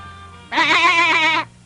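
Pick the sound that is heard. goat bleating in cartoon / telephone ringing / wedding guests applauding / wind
goat bleating in cartoon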